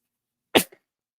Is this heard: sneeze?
yes